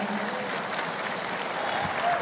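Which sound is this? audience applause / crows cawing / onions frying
audience applause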